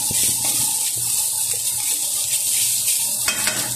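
Leftover rice fries in a pan for fried rice, a steady loud sizzle with occasional scraping stirs throughout, close up and alone without talk.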